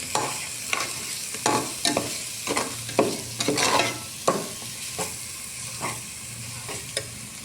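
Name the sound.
frying misal spices in oil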